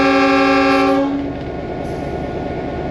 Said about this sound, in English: You guys probably want to hear the horn